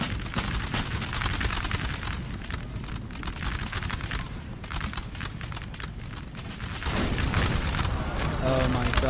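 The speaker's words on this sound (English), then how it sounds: "That canister there, breaking 2 units with 1 volley." A canister shot volley in the Napoleon Total War video game, heard as dense, continuous crackling gunfire and booms throughout, with a voice talking over the battle noise.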